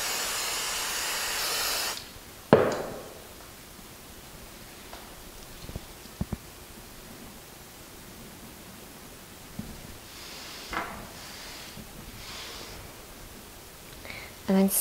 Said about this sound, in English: And then spray this down and pat that down.